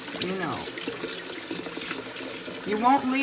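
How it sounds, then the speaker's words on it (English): Cold water splashes and trickles over sea moss being rinsed by hand, a close, uneven wash of liquid sounds, with a voice talking over it. "just take some cold water and just make sure you wash it really good"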